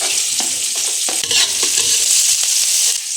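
Finely chopped garlic and onion browning in a pan, a close, bright sizzle with intermittent stirring scrapes and small pops running steadily.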